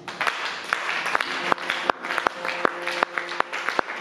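A church congregation claps in praise of the Lord, scattered hand claps popping irregularly over a soft wash of applause, moderately distant and fairly quiet.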